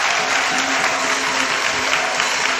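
Applause and acclamation from a church congregation in Côte d'Ivoire, a dense steady wash of clapping and cheering that holds at full level throughout.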